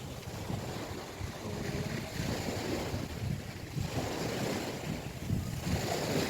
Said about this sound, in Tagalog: ang bawod kay saba ang bawod pero nindot paminawon sa dunggan